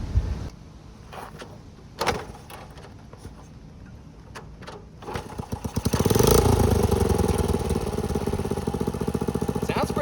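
A 1981 Honda Passport C70 motorcycle fitted with a new carburetor: a few clicks and clunks at first, then the small engine starts around six seconds and settles into a steady, loud, close idle.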